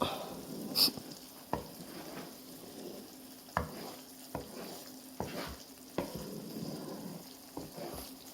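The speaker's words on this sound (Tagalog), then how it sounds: "Kailangan lagi ng hinahalo." Biko, a sweet sticky rice cake, being stirred constantly in a pan as it cooks, with scraping strokes at an irregular steady rhythm over a soft background sizzle, close up and moderately quiet.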